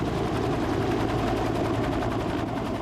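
Sustained rapid gunfire from a Cobra attack helicopter during night firing training, a continuous loud, dense rattle with no pauses.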